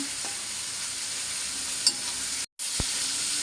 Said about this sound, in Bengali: এবার এই খোসাগুলোও ভাইজা নেব একটু সুন্দর করে। পেঁয়াজ দিয়ে দিলাম।